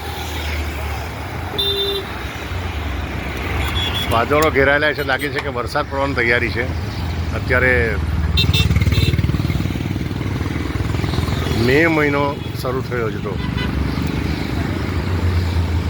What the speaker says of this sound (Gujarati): 24 કલાક આ બ્રિજ પરથી વાહનો પસાર થતા હોય છે.